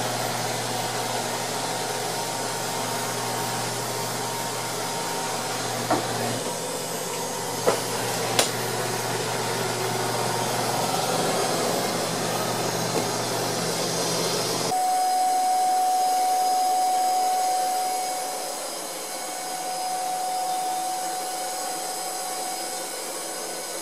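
Robot vacuum cleaners, a Cecotec Conga 9090AI and a Neato, run indoors with a steady, loud whirring hum, a few sharp knocks partway through and a change to a higher-pitched whine near the end, without talk.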